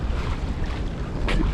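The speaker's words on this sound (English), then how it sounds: "If this wind holds up, it's kind of lovely." Steady wind rushing over a sailing boat heading north at sea off Scotland, with broadband buffeting and microphone wind noise throughout, a brief gust swelling near the end.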